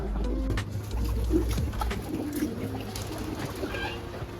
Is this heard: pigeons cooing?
yes